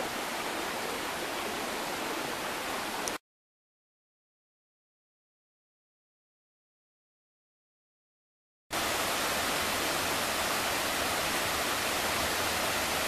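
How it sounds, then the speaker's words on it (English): Mill Prong Creek in Shenandoah National Park, just below a cabin, a steady dense rush of flowing water, loud and close, cut by a few seconds of total silence midway before the rush resumes. "That's Mill Prong Creek coming down this way."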